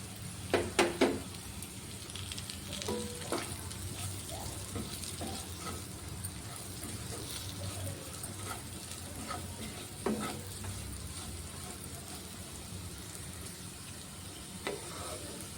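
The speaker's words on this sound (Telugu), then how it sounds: "వేయించి పెట్టుకున్న ఆనియన్స్ ఉన్నాయి కదా వాటిని ఇప్పుడు ఇందులో వేసుకొని కలుపుకోవాలి" Fried onions being stirred into a chicken sandwich filling in a pan, a low steady sizzle broken by occasional sharp clanks and scrapes of the spoon, fairly quiet and without talk.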